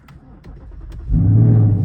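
A Ford Mustang GT running a stock tune cranks with a few quick clicks and a whir, then catches at about one second and settles into a loud, deep, close rumbling idle.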